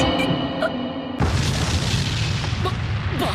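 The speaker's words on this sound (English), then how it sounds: "Then suddenly there was an explosion in the demon's space." A loud anime explosion effect erupts about a second in, a sudden booming blast at a demon's space that leaves a dense, rumbling roar sustained to the end, after a quieter tonal passage.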